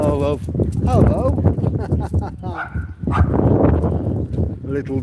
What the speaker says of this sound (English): Little dog there.